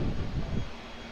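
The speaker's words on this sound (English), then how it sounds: "A330-200 off to Brisbane" A Qantas Airbus A330-200 departs Auckland Airport for Brisbane, a low rumbling engine roar mixed with wind buffeting that eases slightly toward the end.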